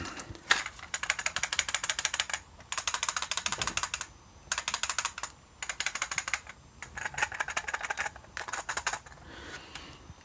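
Bursts of rapid plastic rattling as a MiniDisc is shaken inside its hard case, in repeated clusters with brief pauses between them.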